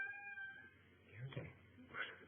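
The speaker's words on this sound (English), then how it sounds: "Excuse my cat, everyone." A pet cat meows close to a computer microphone during an online presentation, one drawn-out plaintive call followed by shorter wavering meows, faint and muffled.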